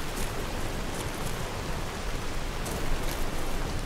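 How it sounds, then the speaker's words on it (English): Steady, dense rainfall in the video game Skyrim Special Edition hisses evenly throughout, a continuous broadband wash with slight swells, no voices present. "Why is raining so much?"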